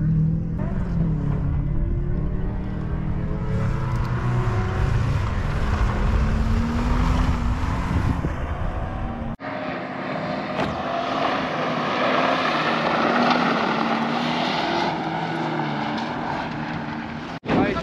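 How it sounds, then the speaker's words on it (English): A Subaru engine fires up at a khanacross motorsport event at Symmons Plains Raceway, giving a loud, steady, broadband roar that runs continuously with a brief dip partway through. "Subaru is just going to start now."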